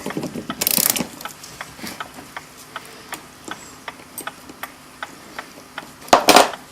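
Mainspring of a Gilbert kitchen clock being wound, its ratchet giving a steady run of crisp metallic clicks, close and loud, bracketed by two heavier clattering bursts at the start and end.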